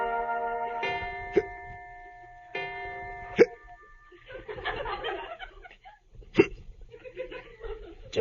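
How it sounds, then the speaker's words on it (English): A man hiccups three times at roughly two-second intervals, each a sharp, close catch in the throat, while a sustained musical tone and soft murmuring voices play underneath. "do you have the hiccups?"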